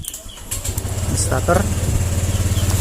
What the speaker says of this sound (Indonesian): Di starter pun langsam, stasionernya langsam, tapi kalau digas seperti ini dia nggak mau jalan.